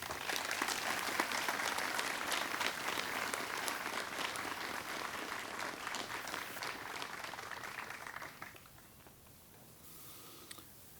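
An audience at an outdoor Veterans Day ceremony in Cupertino gives Admiral Franklin a sustained round of applause, with dense steady clapping from many hands that fades out near the end and leaves quieter room tone.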